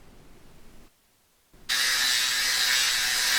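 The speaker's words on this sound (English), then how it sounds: "Using light pressure and a constant motion through the cut provides the fastest cut rate and will prolong wheel life" An abrasive cut-off wheel bites into metal: a low rumble, a moment of near silence, then a loud, continuous harsh grinding hiss that holds steady until the end.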